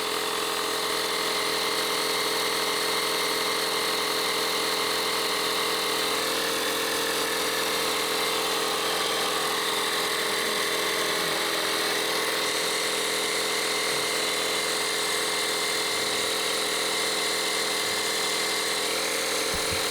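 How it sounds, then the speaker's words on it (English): An Audew portable tire air compressor runs without a break, a loud close mechanical buzzing drone with a fast pulsing rattle, steady for about twenty seconds with no speech. "And then all I simply do is just hit the power button. And the compressor will come on."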